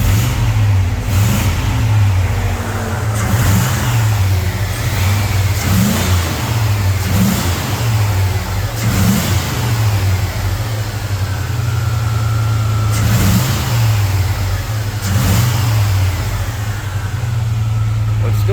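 Chevrolet C10 squarebody truck with an LS swap, engine revving in repeated throttle blips over a steady idle, loud and close, with some talk over it.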